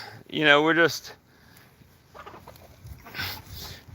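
Rooster crowing with a loud, drawn-out call at the start, followed by fainter clucking from hens in a backyard flock, with some background noise and a voice in the later part.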